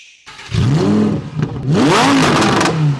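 A Lamborghini with all-wheel drive starts with a quick crank, then its engine roars and revs loudly in rising and falling swells close by.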